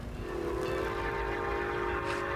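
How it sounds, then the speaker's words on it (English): A train whistle sounds in a railway station setting, a sustained steady tone held for a couple of seconds over a low rumble, loud and close with no talking. "Where's that whistle coming from? That's the Northern Star."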